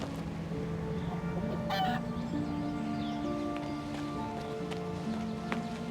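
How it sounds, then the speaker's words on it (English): A chicken clucks in the video game King's Bounty II, with short repeated clucks and calls over a steady bed of game ambience and faint hoof-like clopping. "Moment, ich höre doch ein Huhn."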